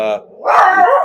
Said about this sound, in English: My dog sees another dog outside.